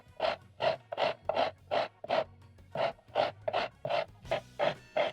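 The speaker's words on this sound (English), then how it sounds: "using a box grater, you're going to grate your zucchini, and I'm going to be using the large holes to do that" Zucchini rubbed down the large holes of a box grater: about a dozen steady, rhythmic rasping strokes, close and fairly quiet, with no talking.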